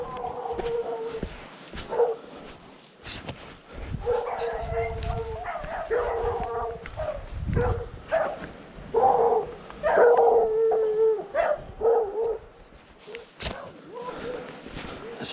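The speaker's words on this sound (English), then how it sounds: "you can hear the hounds now" Hounds bark and howl out in open dale countryside near sheep, a pack of yelps and long howls rising and falling at middle distance while people talk over them.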